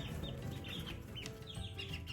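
Soft, repeated clucking and chirpy calls from a nearby young hen, rising and falling over a low background rumble.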